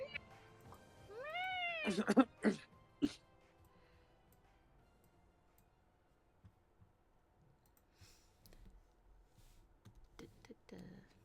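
Several human voices imitate cat meows in a quick cluster of rising, wavering calls, followed by quieter scattered sounds and faint talking.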